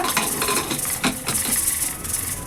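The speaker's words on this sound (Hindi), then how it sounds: "अभी ढक्कन लगाएगा" A lid set onto a pot of Manipuri-style khichdi on the stove, giving a few close metallic clanks and scrapes over a low background hiss of cooking.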